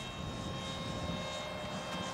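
A radio-controlled foam T-50 stealth-style jet plane flies, giving a steady buzzing motor drone with a whine that holds level throughout, fairly loud and uninterrupted, with no talk.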